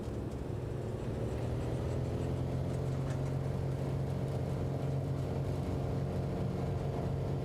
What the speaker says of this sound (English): There's a bit of engine vibration.